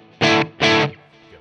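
Two hard slammed chords on an electric guitar, distorted through a Line 6 Helix, each ringing loud for about a quarter second before cutting off, then fading into quiet.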